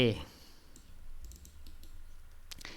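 A few faint, sparse mouse clicks on a computer while right-clicking to create a new text file during a C++ LLVM-MinGW installation, scattered single taps over a quiet room background.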